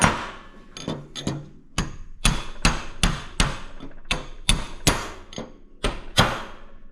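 A hammer strikes a small brass punch set against a chisel during a forestry mower rebuild, giving about fifteen sharp metallic blows in an irregular rhythm, close and alone.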